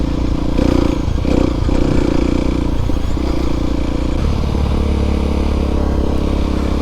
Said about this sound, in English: Why is the Aprilia SX125 the best bike